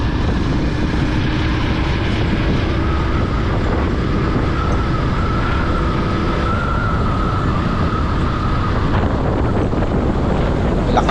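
Strong wind roars and buffets the microphone continuously, a dense rumbling rush with no letup throughout.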